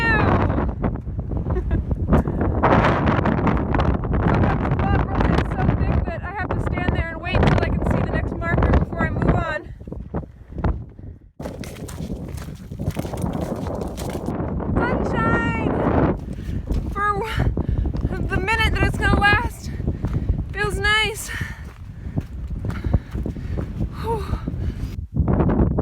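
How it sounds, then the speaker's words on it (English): Strong wind buffets the microphone in loud, continuous gusts on an exposed New Zealand ridgeline, with brief lulls, while a person speaks over it throughout. "increasing wind."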